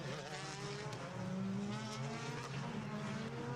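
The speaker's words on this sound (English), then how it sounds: "You can hear the engine noises in the background as well as they come out of the top of the hill then through Westfield and Dingledale" BTCC touring cars racing at Brands Hatch, engines droning and rising in pitch at a distance, a steady blended roar of several cars under the ambient noise.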